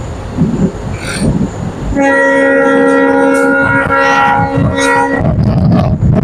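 The Guwahati-Mendipathar passenger train runs through Meghalaya with a close, rattling rumble, and partway through its horn sounds one sustained blast of about three seconds before the wheels carry on alone.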